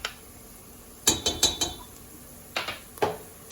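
Haleem ingredients with fresh ground ginger being mixed in a pot: a few sharp metallic clinks and scrapes of a utensil against the pot, in two short clusters with quiet gaps between, close and moderately loud.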